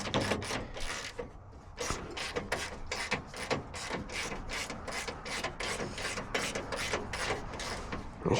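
A stubby quarter-inch ratchet works on a 1976 Ford Ranger, giving a long run of quick, evenly spaced clicking strokes close up, with brief pauses between bursts.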